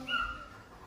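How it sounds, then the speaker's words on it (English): A dog whimpers with a brief high whine during a house renovation in Jamaica, close and fairly quiet, fading into low room noise. "Pardon the dog."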